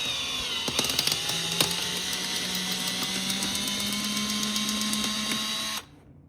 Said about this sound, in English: make sure you drill right into the white plastic and you don't hit any wires.